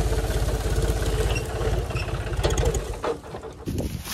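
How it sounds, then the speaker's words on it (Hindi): A John Deere 5050 tractor engine revs hard on a steep climb while pulling a trolley, a loud, close diesel rumble with a steady pulsing beat that rises and roughens before easing off near the end. "थोड़ी रेस खोल दो इधर ट्रैक्टर की"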